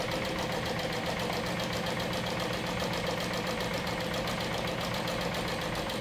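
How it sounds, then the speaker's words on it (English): Sewing machine running steadily on a quarter-inch seam with back stitching at start and end, a continuous close mechanical whir with a fine rapid rhythmic patter, no talking. "So now we're going to stitch with 1/4 of an inch seam allowance."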